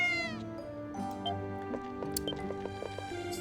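A cat meows in the video game Ys: Memories of Celceta, a short repeated call set against a steady bed of game music with small drip-like effects, with no talk over it.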